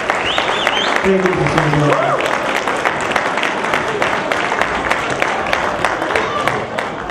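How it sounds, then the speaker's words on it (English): An audience at an event gives a dense, steady round of applause that runs the whole time, with someone briefly speaking near the start over the clapping. "Stand up and give him a round of applause."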